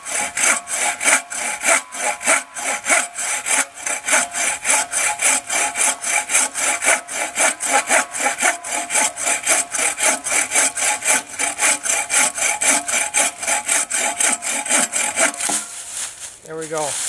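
A Bob Dustrude folding buck saw cuts through a roughly four-inch piece of firewood, its long strokes rasping loudly in a fast, steady back-and-forth rhythm close by, ending as the piece is severed.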